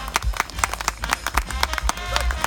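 Live audience clapping for a performer at a living history display, a brief burst of scattered, uneven hand claps that is fairly close and moderately loud.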